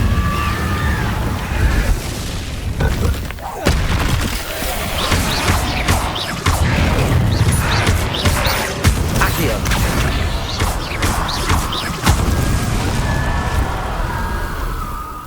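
Levioso and Incendio spells cast in the Hogwarts Legacy video game, giving a dense run of magical bursts, pops and crashing impacts over a constant game soundscape, loud and close, with no talking.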